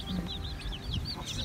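Young Cornish Cross broiler chicks peep in quick, high, repeated chirps, fairly soft and close, over a low steady background hum.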